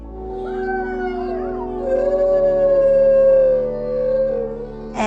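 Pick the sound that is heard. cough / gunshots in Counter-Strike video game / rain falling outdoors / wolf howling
wolf howling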